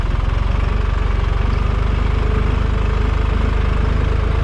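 A Same Frutteto tractor runs steadily and loud up close while powering a Holsan Can20 sprayer for spraying a vineyard, its diesel chugging in an even, rapid low pulse with no speech over it.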